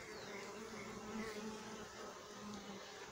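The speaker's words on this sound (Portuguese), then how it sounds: "Olha só o enxame. Ele está alojado aí, ó. Nessas três melgueiras. É um enxame muito grande." A very large honeybee swarm lodged in three stacked honey supers of a hive gives off a dense, steady buzzing hum that fills the air throughout, with no talking.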